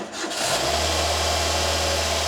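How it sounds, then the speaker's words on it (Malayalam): A car engine with its PCV valve pulled off races at a high, steady idle, a constant loud drone that holds without change after a brief start. "എഞ്ചിൻ റേസ് ആയിട്ട് നിൽക്കും"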